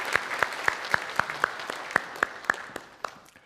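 A church congregation at a Sunday worship service applauds, with a handful of distinct, evenly spaced claps standing out over a softer spread of clapping that fades toward the end.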